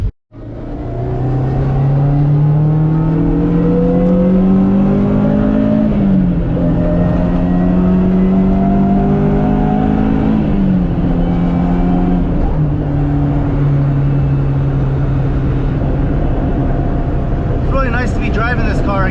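A 1985 Toyota Corolla drives along, its engine heard from inside the cabin as it revs up through several gears, pitch rising then dropping at each shift, with steady road noise throughout.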